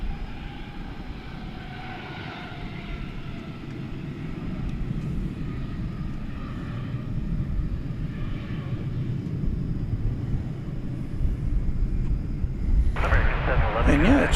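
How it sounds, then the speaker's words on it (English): An American Airlines Airbus A321 takes off at DFW International Airport, its engine rumble building steadily from a moderate drone to a louder roar, with a sharp burst of hiss near the end. "as this plane goes up in the air, we've got American Flight 514 to San Juan, Puerto Rico, and Airbus A321"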